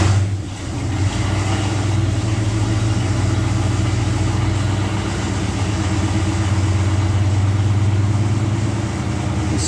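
A 1970 Plymouth Duster engine runs in fourth gear, giving a loud steady droning rumble with a constant low hum that holds evenly for about ten seconds with no talking.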